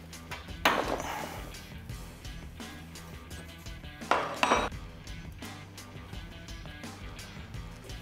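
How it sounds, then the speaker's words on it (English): Metal clanks as a piston nut is worked off a shock absorber rod clamped in a rod vise, with two sharp bursts of clatter separated by quieter tool handling. "Now we're going to put it in the rod vise, pull the piston nut off"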